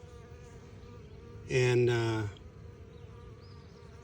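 A honey bee from a freshly caught spring swarm buzzes close by in one loud burst of about a second, then fades back into quiet outdoor background.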